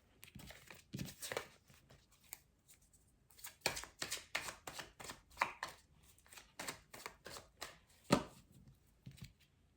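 Oracle cards being shuffled by hand in quick bursts of riffling and crisp card slaps, close and fairly quiet, with short pauses between shuffles.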